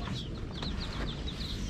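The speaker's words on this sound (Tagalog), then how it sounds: "Ngayon, asikasuhin ko muna itong mga alaga kong manok." Chickens and incubator-hatched chicks in a backyard coop, with repeated soft high peeping and light clucking over a steady noisy background, moderately close and with no talk.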